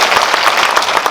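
Cinema audience at a post-screening talk with actors claps in a brief, loud, dense burst of applause heard close by.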